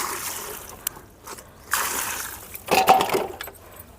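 Water is poured onto soil in a pot while potting a papaya plant, making soft trickling and splashing bursts that come and go at a moderate, close level.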